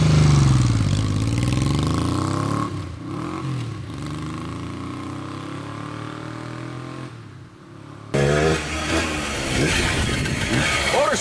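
A 1979 Yamaha XS750 motorcycle engine revs and accelerates close by, its stock exhaust note rising and falling with a rough, barking edge, continuous throughout.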